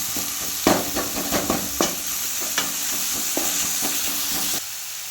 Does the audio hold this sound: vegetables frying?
yes